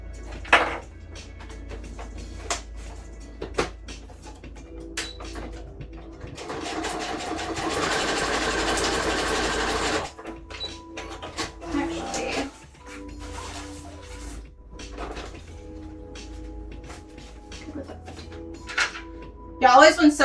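A sewing machine stitches fabric for a Rhea cosplay costume, running in bursts with one long steady whir in the middle, over a low room hum with some talk around it.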